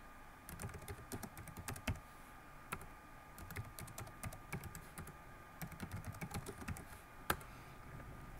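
Rapid, uneven typing on a computer keyboard, close and fairly quiet, with clustered keystrokes and brief pauses while an environment variable is set; no one talks.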